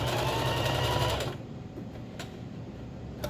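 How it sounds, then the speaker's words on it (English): Sewing machine stitching ribbon onto thin skirt material, a fast steady mechanical whir running close and loud for over a second before stopping, leaving quiet room noise with a faint click. "when you're sewing thinner material, to use a higher tension on your machine"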